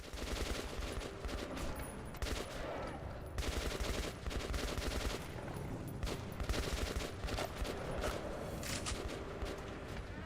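Rapid bursts of video game gunfire, dense automatic shots and booms firing almost continuously at steady loudness for several seconds, with no talking.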